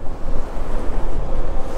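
Strong, cold wind buffets the microphone in loud, gusting rumbles, a constant roaring rush with no voices.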